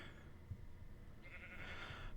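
A Minecraft sheep bleats once, a short faint wavering cry at low volume over a quiet background hum, with no talking.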